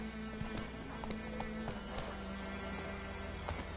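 A horse gallops in the video game The Witcher 3, quick rhythmic clip-clop hoofbeats repeating steadily and close over a low background hum.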